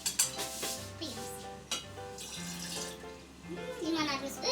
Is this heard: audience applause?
no